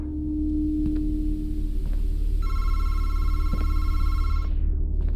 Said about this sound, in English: Phone call.